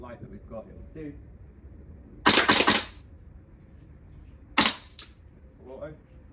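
A VFC V3 gas blowback airsoft rifle fired on full auto in two short bursts, the first longer and the second brief, each a loud rapid rattle of shots, with quiet talk before and between.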